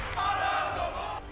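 Crowd at a card-game tournament regional qualifier in Bologna, a loud sustained roar of cheering and shouting that swells and holds throughout.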